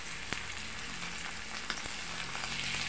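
Dried fish (tuyo) frying in a pan, a steady, fairly soft sizzle with a few faint pops and crackles on top, and no voices.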